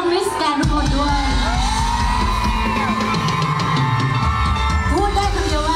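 A loud crowd screams and cheers continuously at a Miss Grand Thailand event, with high-pitched shrieks and whoops piling over one another throughout.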